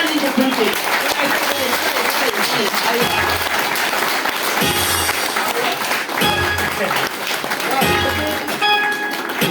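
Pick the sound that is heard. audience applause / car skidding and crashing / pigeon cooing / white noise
audience applause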